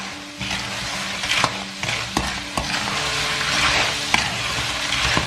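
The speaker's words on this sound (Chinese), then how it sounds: "快速的给它翻炒" Clams are tossed and stirred in a hot wok, with a steady sizzle of frying and repeated sharp scrapes and clanks of the spatula against the metal, near and fairly loud, with no talking.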